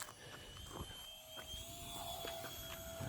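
A J35 EDF model jet flying at half throttle, a faint steady whine and rushing drone with a thin high tone drifting in pitch, heard from a distance.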